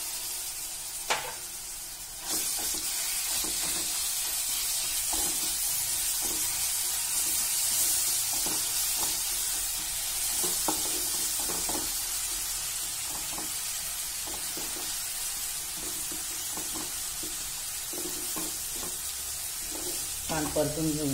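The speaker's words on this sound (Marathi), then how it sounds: "नंतर यात टाकूया कांदा, लसूण आणि अद्रकची पेस्ट," Onion, garlic and ginger paste sautéing in a hot pan with ground coriander, a loud continuous sizzle and hiss with scattered stirring scrapes, carrying on alone for about twenty seconds.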